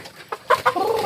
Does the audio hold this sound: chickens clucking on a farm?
yes